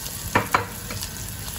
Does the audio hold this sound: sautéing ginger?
yes